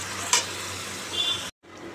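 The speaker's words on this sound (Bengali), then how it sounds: "দেখো বন্ধুরা এটা এখন কষাচ্ছি, এবার জল দেবো, দিয়ে মাছটা দিয়ে দেবো।" Spice masala sautéing in a pan ahead of the fish, giving a steady close sizzle with a brief sharp scrape of stirring, cut off by a short silent gap near the end.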